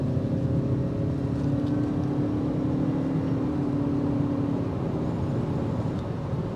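A 2025 Lexus ES300h hybrid sedan makes a turn radius run, heard from inside as a steady low engine and road hum with a faint whine that holds for the whole stretch.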